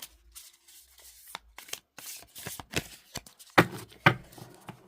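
An oversized tarot-style archetype deck shuffled overhand by hand, soft irregular card slaps and rubs in short bursts with brief pauses, close and fairly quiet, with two sharper snaps near the end.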